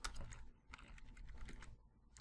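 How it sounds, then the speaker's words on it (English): Fast, irregular clicking of keys on a computer keyboard, close and fairly quiet, in short bursts with brief pauses and no voices. "I can redefine this by just typing in"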